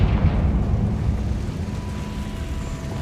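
A Confringo fire spell goes off as a deep rumbling blast in Hogwarts Legacy, heavy and booming at the start and then decaying into a long, low roiling rumble with no voices.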